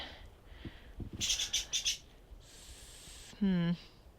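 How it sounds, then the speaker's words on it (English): A bird calls in a garden among parsley, garlic and kohlrabi beds, giving a few short bright chirps and a brief buzzy trill over quiet outdoor background. "This bird."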